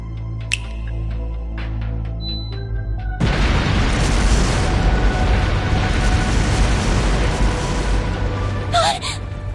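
A sudden massive blast from scattered explosive artifacts in a palace in Trails Through Daybreak erupts after a quieter stretch, then rumbles on as a loud, sustained roar of debris and fire, with a short voice near the end.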